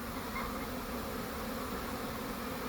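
A honeybee swarm streams in to a swarm lure, making a dense, steady buzz of many wings that fills the air close by and stays constant throughout, with no voices.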